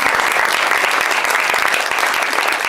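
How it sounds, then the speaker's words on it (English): A community address audience gives loud, steady applause, a dense wash of many hands clapping that carries on without a break and drowns out any voices. "You can clap."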